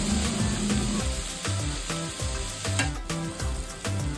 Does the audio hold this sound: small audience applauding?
no